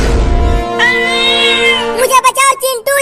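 A cartoon cat meows loudly in a drawn-out, wavering cry, then breaks into several short, choppy mews, with a voice speaking just before in a comic animated scene.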